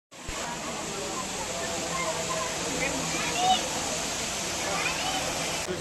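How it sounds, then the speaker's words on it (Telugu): A waterfall pours down from a hillside at Tirumala, a continuous broad roar of rushing water that holds steady from start to finish and sounds fairly close. "చాలా వాటర్ అయితే పడుతుంది కిందకి కొండపై నుంచి."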